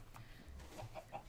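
Soft, faint clucks from a Minecraft chicken come in a few short bursts, quiet and close, with no talking over them.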